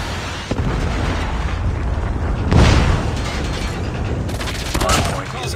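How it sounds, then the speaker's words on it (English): Predator missile strike explosions in the Call of Duty Mobile video game: a loud, dense rumbling blast swells around the middle amid continuous battle noise and crackling, with a second burst near the end. "Hostile Predator missile inbound."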